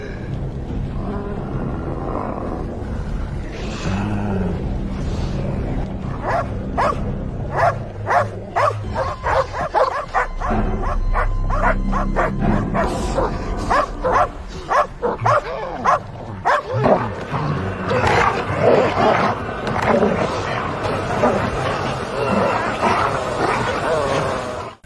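A pack of wild dogs in the outback drama Gold (2022) barks, yips and snarls in dense, overlapping bursts, close and loud, with growling and whimpering mixed in throughout.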